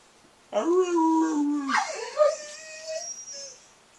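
A pet wolf gives a long, wavering whimpering howl close by, starting with a rising whine that slides into higher yips and trails off into softer whimpers over a few seconds.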